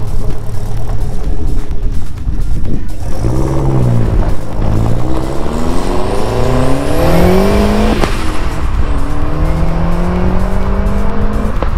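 An original 1987 four-cylinder Foxbody car accelerates hard nearby, its engine note climbing through several revving pulls with a brief tire squeal, loud and with no talk.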